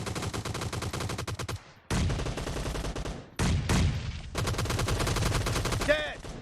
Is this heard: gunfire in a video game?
yes